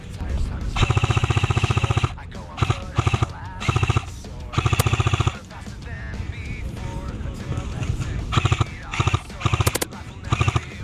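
Airsoft guns fire during an outdoor game in repeated loud bursts of rapid full-auto shots, several seconds each, with pauses between them and players talking in the gaps.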